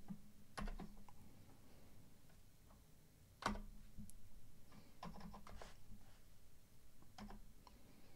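Quiet typing on a computer keyboard at a desk, with scattered soft key clicks and a few sharper taps, close to the microphone.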